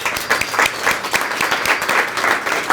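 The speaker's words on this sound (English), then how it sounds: "So let's give them all a great round of applause." An audience at a community meeting gives volunteers a loud, close round of applause, dense clapping with rhythmic surges throughout.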